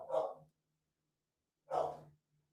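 A dog gives two separate muffled barks indoors, each about half a second long, with a second of silence between them.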